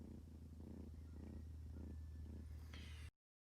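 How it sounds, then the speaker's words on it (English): A cat purring close up, a soft low rhythmic rumble pulsing in steady breaths, quiet and continuous before stopping abruptly. "Can you hear her purring?"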